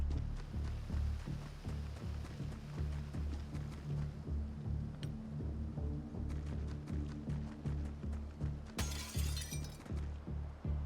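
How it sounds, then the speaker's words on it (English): Windows shattering and walls being smashed in the Xenonauts 2 video game, a dense run of crashing, thudding impacts over a steady low rumble, capped by a bright burst of breaking glass near the end. "Civilian breaks through windows, smashes down walls."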